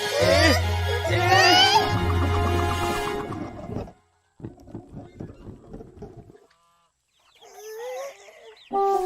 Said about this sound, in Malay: Ayam tu bertelur.